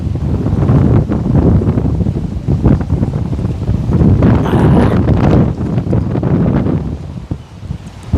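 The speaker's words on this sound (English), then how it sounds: "The wind is terrible here." Strong wind buffets the microphone on a golf course, a loud continuous roar with gusting swells and rumbling low noise throughout, no voices heard.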